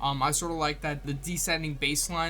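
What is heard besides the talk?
No everyday noises stand out.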